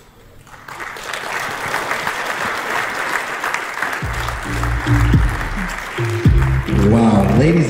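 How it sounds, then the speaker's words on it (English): Wedding reception crowd applauding at a Punta Cana resort, steady dense clapping that builds and holds throughout, with music and a voice entering beneath it partway through. "let's give the bride's parents a huge round of applause, you guys"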